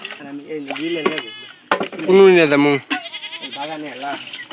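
Several goats bleat loudly and close by on a farm where goats are kept, in wavering, drawn-out calls with one long strained cry in the middle, heard on their own with no talk over them.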